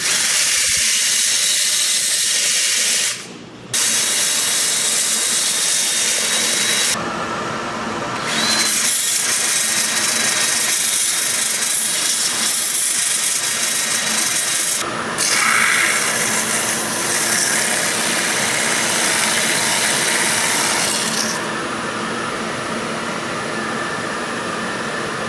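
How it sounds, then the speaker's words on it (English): A sander works a spinning sweetgum stump and resin bowl on a lathe, giving a loud, continuous, close hissing whir with a few brief dips and restarts along the way. "I'm going to take Sandal Flex and come in here while it's spinning and get this all cleaned up, and then I'll take this sander in there."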